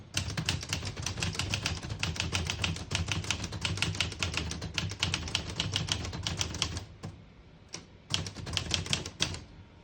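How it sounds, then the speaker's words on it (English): Rapid, steady clacking of keys striking paper on a 1976 Olivetti 32 portable typewriter, loud and close, with a brief pause near the end before a final burst of keystrokes. "I'll type a sentence on the next line."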